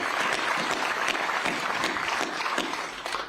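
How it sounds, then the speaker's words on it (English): Dense applause fills a news conference room welcoming a new New York Jets quarterback, a steady wash of many hands clapping at moderate level without pause. "I just like to have a round of applause right there."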